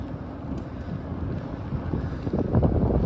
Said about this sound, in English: I'm riding against it right now. Right at this moment. Against the wind.